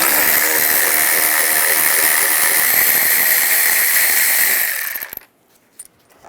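A ratchet with a 10mm socket spins out two bolts on a 2007-18 Jeep Wrangler air snorkel, a loud, rapid continuous clicking whir for about five seconds before it abruptly stops, followed by a couple of light taps.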